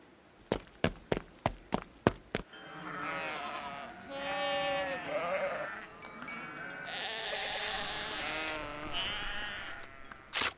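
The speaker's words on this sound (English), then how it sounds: "Move closer to the sheep." Sheep bleating in a game scene, several wavering calls overlapping and fairly close, following a quick run of sharp taps at the start.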